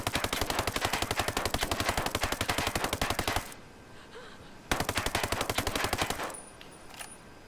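A suppressed 416 Shorty rifle fires full auto in the video game Ghost Recon Breakpoint. Two long, rapid, evenly spaced bursts are separated by a short pause, and each ends abruptly.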